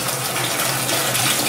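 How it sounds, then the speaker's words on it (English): Steady, loud rush of running water from a tap or hose while a Christmas wreath is watered, continuous and close with no talking. "watering her Christmas wreath"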